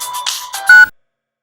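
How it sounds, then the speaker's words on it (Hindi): A mobile phone ringtone for an incoming call, a short bright electronic melody with a sustained final tone that ends abruptly into silence, heard alone and close. "किसका तो भी फोन आ रहा रे तेरे को"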